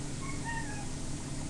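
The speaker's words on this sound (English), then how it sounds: "this is my cat, Tiggy" A house cat gives a faint, brief meow over a steady background hum, with the cry rising and falling in two short pitched sweeps and no voices present.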